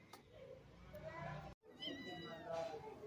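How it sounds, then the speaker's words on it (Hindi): A mother cat meows, calling for her kittens in a Pakistani home, with several drawn-out cries close by and a person talking around them. "बिल्ली आ गई है"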